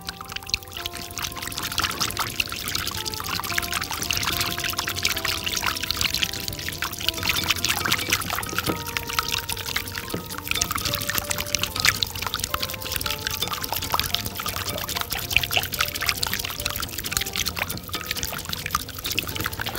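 Olive oil is poured slowly into a sauce mixture, making a steady, soft trickling pour that runs continuously and close by, with faint clinks and no talking over it.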